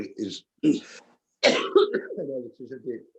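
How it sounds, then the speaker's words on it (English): A man coughs in several short harsh bursts, a persistent months-long cough, close and fairly loud, mixed with throat clearing in a quiet room. "I have a cough that I've had for about 6 or 8 months"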